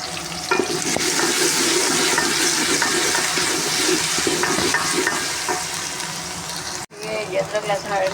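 Steady sizzling and crackling of ginger, garlic and green chili paste frying in hot oil, close and continuous, with a brief pause and stirring near the end.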